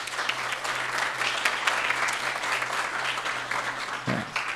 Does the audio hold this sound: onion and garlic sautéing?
no